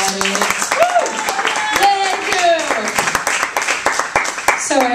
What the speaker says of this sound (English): Continue that applause going for Drew Wilson, everybody.